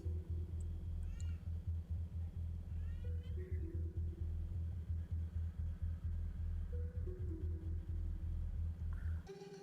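A house cat meows a few times, short faint chirping calls over a constant low rumbling hum, indoors, with no talking.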